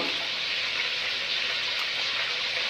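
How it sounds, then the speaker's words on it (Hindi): Water being poured into a saucepan of mashed lentils (daal mash) in a home kitchen, a steady, close hiss of pouring liquid with no talk. "और 2 कप जो है मैं पानी के शामिल कर दूंगा।"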